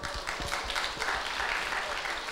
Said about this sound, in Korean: 반갑다고 박수